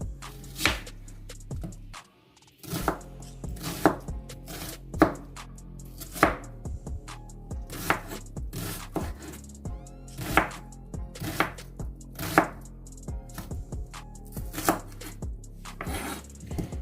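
Onions being chopped with a knife on a cutting board while cooking lauki gosht, a mutton and bottle gourd curry; a steady run of sharp, close knock-like strikes, with a brief pause early on and no talking.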